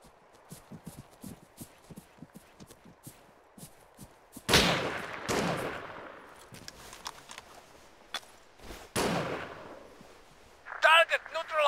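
Gunfire cracks out in the World War II mod IFA3 for the video game ARMA 3, with several loud, sharp reports spaced a second or two apart among lighter clicks and thumps. Faint voices are mixed in.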